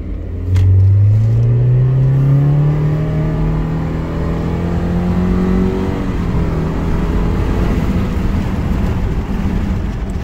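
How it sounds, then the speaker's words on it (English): A car engine roars and climbs steadily in pitch as the vehicle accelerates at full throttle up to 50, then settles into a loud, even road rumble before hard braking. "So that was full throttle up to 50, hard brakes."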